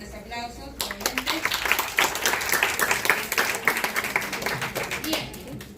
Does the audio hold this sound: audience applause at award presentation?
yes